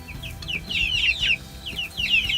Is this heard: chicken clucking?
yes